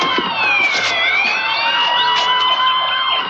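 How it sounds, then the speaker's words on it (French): Several emergency vehicle sirens wail together near a large fire in a TV drama, overlapping rising and falling tones that stay loud and steady throughout with no speech. "Un feu important à en juger par toutes ces sirènes."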